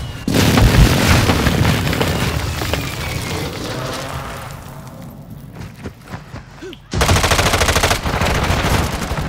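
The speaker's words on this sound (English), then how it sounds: "Friendly airstrike in the AO." A friendly airstrike in a video game pounds the area with loud, continuous explosions and rapid gunfire, briefly easing before a heavy blast returns at full force.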